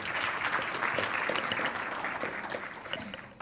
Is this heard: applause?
yes